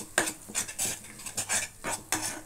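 A spoon stirs and scrapes a pea paste filling for kachuri around a pan: about eight rhythmic scraping strokes with clinks of metal against the pan over a faint sizzle, close and clear.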